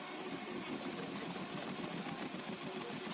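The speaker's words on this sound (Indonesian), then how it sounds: "Ya, resiko mesin mixer yang biasa seperti itu agak lama mixernya" A regular non-turbo electric mixer drones steadily nearby, a constant whirring motor hum with no breaks and no talk over it.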